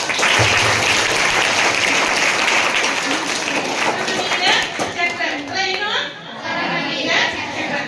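Audience at a school quiz competition claps in a loud, dense burst of applause that thins out toward the end, with children's voices and chatter mixed in.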